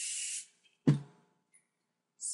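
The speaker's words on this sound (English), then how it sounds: "Spray." Hairspray hisses in short bursts onto a bridal up-do: a first spray lasts about half a second, another starts at the very end, and a soft handling thump falls in the quiet between them.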